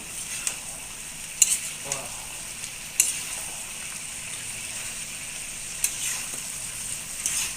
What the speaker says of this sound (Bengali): ভালো করে মশলাটা নেড়ে সেড়ে দিব